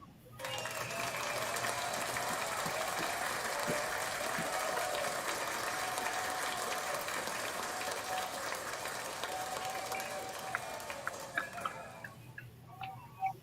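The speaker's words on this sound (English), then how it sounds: "Quick round of applause for all of these gentlemen." Applause for rap battle performers at a podcast taping, a sustained wash of clapping with a faint hum underneath, thinning to scattered claps and ticks near the end.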